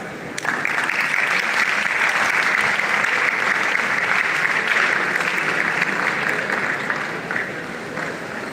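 An audience at a young entrepreneurs summit gives a speaker a sustained, loud round of applause, dense and steady, easing slightly toward the end.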